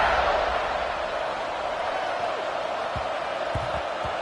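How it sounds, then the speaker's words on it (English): Crowd buzzing in a football video game, a steady broad murmur of a stadium crowd filling the background, with a few faint thumps toward the end. "this crowd is buzzing after that last score"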